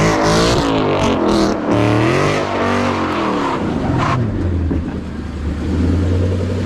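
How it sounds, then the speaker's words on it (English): A 2014 Ford Mustang GT fitted with a GT500 rear valence and Corsa quad exhaust tips revs hard, its loud, deep exhaust rising and falling through several throttle blips before settling into a steady rumbling idle. "I have a GT500 rear valence and I have Corsa quad tips, and this motherfucker sounds beautiful"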